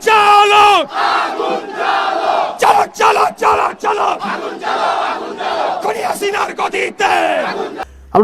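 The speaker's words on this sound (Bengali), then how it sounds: "দুই একটা স্লোগান দিয়ে শেষ করে দিতে চাই" A large crowd at a political rally chants slogans in loud, rhythmic call-and-response, with one voice leading each line and many voices roaring back in close, repeated bursts.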